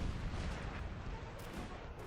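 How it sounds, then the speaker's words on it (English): Massed Napoleonic artillery fire in Napoleon: Total War's Battle of Waterloo, heard as a faint, steady wash of distant cannon and musket rumble with no talk over it. "My artillery is pounding the column while it's on its way and taking big casualties"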